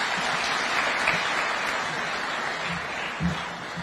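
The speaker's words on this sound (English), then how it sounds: "Another round of applause for him." A chamber of commerce audience at State House in Kenya applauding after the President's speech, a broad steady wash of clapping from many hands, fairly distant and even throughout.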